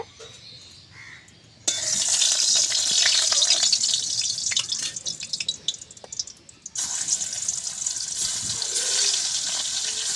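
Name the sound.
fish frying in hot oil in a wok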